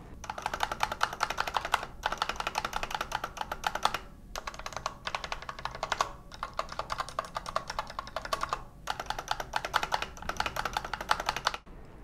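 Rapid clattering keystrokes on a Fantech MAXFIT mechanical keyboard come in close, dense runs broken by short gaps, loud and alone without talk.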